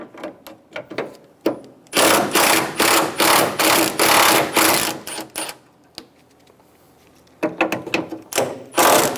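A 13mm socket ratchet backs out hood latch screws on a 1988-1999 GMC K1500, fast loud clicking bursts in a rhythmic run, a short pause, then more rapid ratcheting, close up.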